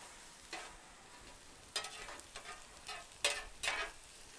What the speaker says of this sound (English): I'll not only add some butter, but I'll add some of that minced garlic. Just kind of stir these up a bit